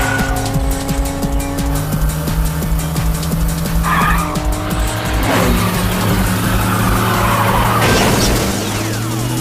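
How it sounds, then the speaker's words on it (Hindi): A race car in an action-film race skids and crashes, with loud tire squeals and revving engines rising into a broad impact burst and scraping noise, and no talking. "गाड़ी नंबर 21 शायद हादसे का शिकार हो गई है।"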